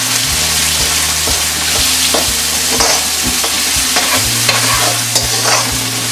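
Finely chopped onions fry in a pan with mustard seeds and asafoetida, giving a steady, loud, continuous sizzle with spatula scrapes and clinks throughout, near and alone with no talking.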